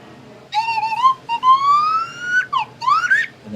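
A person whistles loudly and close, imitating a slide whistle with sliding pitch sweeps: wavering rises and a long upward glide broken into several phrases.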